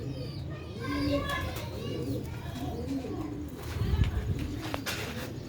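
Breeder pigeons coo in low, rolling calls nearby while children play and chatter in the background and someone talks.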